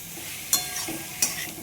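Cauliflower fries in a pressure cooker with a soft continuous sizzle, punctuated by two sharp stirring scrapes, heard up close with no voices.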